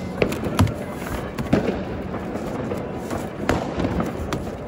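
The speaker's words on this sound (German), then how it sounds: "Alles aus ganz billigem Feuerwerk." Several sharp bangs and thumps from cheap street firework batteries burst irregularly over a crackling, noisy outdoor background, fairly close.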